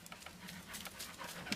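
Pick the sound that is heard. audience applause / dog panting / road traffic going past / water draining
dog panting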